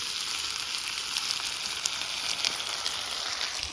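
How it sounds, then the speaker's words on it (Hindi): Steady sizzling of onions frying in hot mustard oil, a dense continuous crackle with occasional louder pops, close and unbroken. "प्याज को भी हम अच्छे से फ्राई कर लेंगे।"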